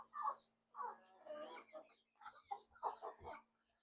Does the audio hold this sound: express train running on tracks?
no